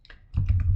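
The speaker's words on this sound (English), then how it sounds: "let me just type in" Several quick keystrokes are typed on a computer keyboard, close and crisp, over a low hum in a short burst.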